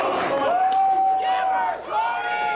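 Wrestling event crowd chanting: a dense, roaring mass of voices with one long sustained shout riding on top, loud and continuous.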